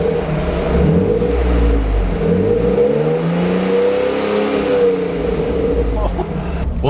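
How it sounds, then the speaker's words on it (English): A BMW E36 M3 straight-six with about 80k miles, after a catastrophic engine failure, revs up and down in smooth sweeping rises and falls, loud and close, with a steady idle rumble underneath. "Let's see what happens when we rev it."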